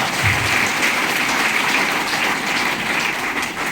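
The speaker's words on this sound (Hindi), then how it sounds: "तो एक बार अपने लिए जबरदस्त और जोरदार तालियां था" A crowd at a training session claps loudly and continuously, dense applause filling the whole stretch without pause.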